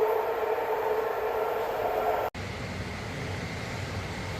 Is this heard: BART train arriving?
yes